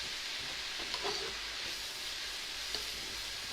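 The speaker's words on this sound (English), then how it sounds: "So we're just going to give that a good stir." Singapore noodles sizzling in a hot pan as they are stirred, a steady frying hiss with a few scraping stir sounds, close and without talk.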